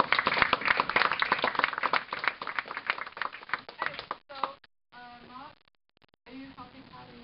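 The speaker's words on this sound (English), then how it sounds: "So I'd like us to give a round of applause to our president" Crowd of people at a school gathering clapping for a president, a dense burst of hand claps that thins out and fades as talking voices take over near the end.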